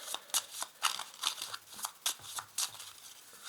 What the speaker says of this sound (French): je place donc mes petites cartes